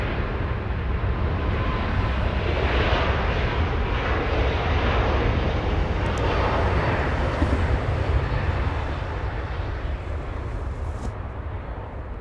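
A super heavy jet, an Asiana airliner, departs Los Angeles International Airport, a loud, broad roar of engines that builds and holds for several seconds, then slowly fades as it climbs out.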